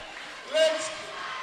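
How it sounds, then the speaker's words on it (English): A home crowd roars and cheers at a WNBL women's basketball semi-final in Dandenong, Rangers against the Perth Lynx, a brief swell of noise that stays loud beneath a commentator's voice. "the crowd's going crazy"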